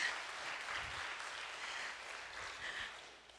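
A church congregation claps steadily for a few seconds, a dense patter of applause that swells slightly and then eases.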